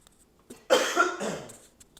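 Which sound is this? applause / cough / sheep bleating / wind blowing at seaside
cough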